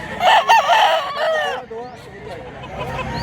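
A gamecock offered for sale crows loudly and close by in one drawn-out call, with people talking around it.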